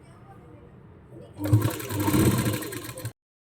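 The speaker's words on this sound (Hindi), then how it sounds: "तो एक सीधी सिलाई पहले हम किनारे से लगाते हुए चले जाते हैं।" A sewing machine runs a straight seam along the edge of fabric for a Rajasthani kanchli blouse, a steady whirring burst of about a second and a half that starts after a quieter stretch and stops abruptly.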